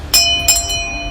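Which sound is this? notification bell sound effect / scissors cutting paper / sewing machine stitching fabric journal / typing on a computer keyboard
notification bell sound effect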